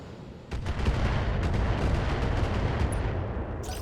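A BattleTech mech fires a volley of LRM-10 missiles in a loud, sustained roar of overlapping blasts and rumbling booms that swells after the first half-second and holds steady.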